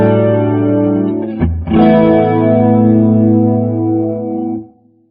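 Electric guitar through a Marshall JMD:1 amp with its built-in chorus modulation, sustained chords shimmering and wavering, re-struck once midway, then ringing out and cut off, with no talking.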